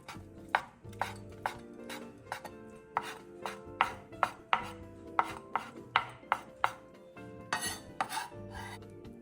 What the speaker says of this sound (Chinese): 香菇1朵，一样切成丁备用